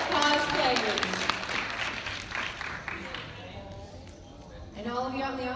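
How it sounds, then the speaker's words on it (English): An audience applauding cosplayers at a horror fan convention, a brief burst of clapping that fades out while a voice talks over it. "Round of applause for Steve Harrington, Stranger Things, Instagram Dad Cosplayers."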